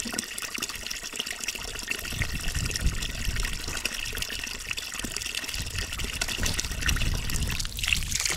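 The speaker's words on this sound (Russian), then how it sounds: "Руку сразу же мою." Hands being washed under running water after cleaning lake-caught crucian carp, a steady close trickle and splash from a tap with shifting flow, no voices.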